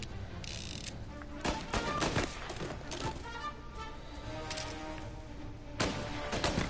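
Gunfire in the game Mafia 1 Remake on PS4, several loud bursts and single shots cracking out in uneven clusters, some close, others duller, over a constant game background with no voices.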